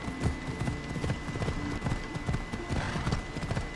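Hooves of the horse Phobos in Assassin's Creed Odyssey, a steady fast clip-clop of galloping over ground, close and continuous for a few seconds.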